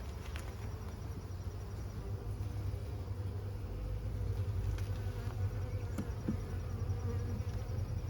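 Honeybees drone steadily inside a hive after a killing frost, a dense low buzz that swells slightly louder midway and holds without pause, with no talk over it.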